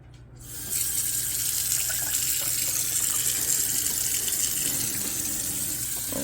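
Water runs steadily from a kitchen sink faucet in a small shed-to-house build, a continuous close hiss and splash that starts abruptly and keeps flowing without pause.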